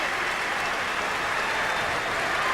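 A Boston home crowd applauds the Celtics during a 1990 NBA playoff game against the Knicks, producing a dense, steady roar of clapping and cheering that fills the arena without a break.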